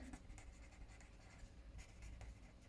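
A pen scratches across paper while a math statement is written out by hand, producing quick, close, rhythmic scribbling strokes with brief pauses and no talking.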